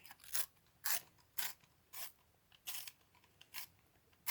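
A pencil ground in a small hand sharpener, with eight distinct scraping, rasping strokes in a regular rhythm, close and quiet with short pauses between turns.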